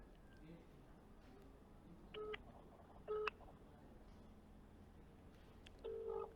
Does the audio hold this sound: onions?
no